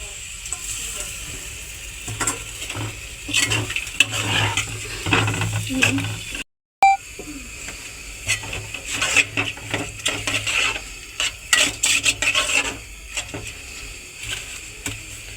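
Masoor lentils being stirred and fried in a pan for dal bhuna, with soft sizzling and repeated scraping strokes of a spoon against metal, a brief gap midway, and a voice talking over it.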